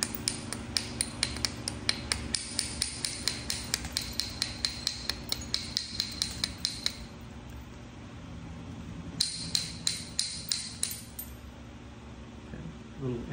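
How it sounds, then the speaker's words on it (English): Sharp stone-on-stone knapping strikes as flakes are knocked off a Tallahatta quartzite Dalton arrowhead, a fast regular series of close, crisp clicks and taps for about seven seconds, a pause, then a shorter burst of strikes. "So I'm gonna bevel and hit off this side."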